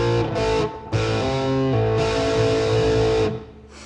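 A distorted electric guitar slide tone from a Zoom R8 rings out sustained, gliding slide notes, loud and close, with no voices.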